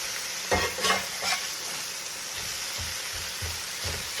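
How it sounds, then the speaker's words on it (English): Bacon braises in a pot for potato soup, giving a steady sizzling hiss with a few louder stirring scrapes near the start and soft bubbling thumps toward the end. "The braising is still going on."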